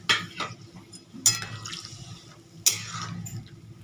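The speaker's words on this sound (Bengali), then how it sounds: "আরও কিছুটা জল দিয়ে দিলাম" Water poured into a cooking pot of partly boiled potatoes while making a paneer pulao and aloo dum, heard as soft watery trickling with a few louder splashes, close by and with no talk.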